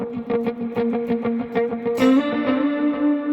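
Electric guitar through an HX Stomp AC30/AC15 amp preset plays a quick run of picked notes, then holds a sustained tone with a wavering, pulsing vibrato, heard alone at steady volume.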